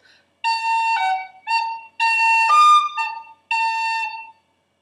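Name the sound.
whistle playing The Connachtman's Rambles with ornaments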